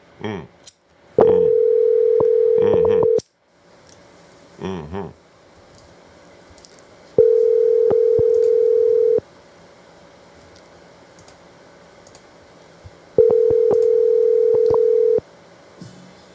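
A phone call rings out as three long, steady tones, each lasting about two seconds with gaps between them. Faint clicks and keypad noises sit between the tones, along with brief bits of nearby talk.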